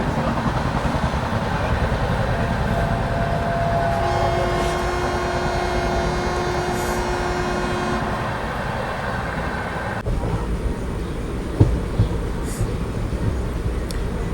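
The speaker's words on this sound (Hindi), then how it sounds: "ये दिल्ली वाला रूट, कोटा से ये दिल्ली साइड ट्रेन जाते हुए" A train on the Kota to Delhi rail route rumbles along steadily with a rolling roar and sustained tonal whines. A sharp clunk comes near the end. No one speaks.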